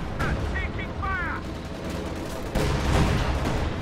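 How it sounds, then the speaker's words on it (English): Incendiary artillery fire in a World War II strategy game, a burst of rapid distant gunfire and crackling explosions, swelling into a louder sustained barrage partway through, with brief whistling tones early on. "Incendiary artillery falling in this general area."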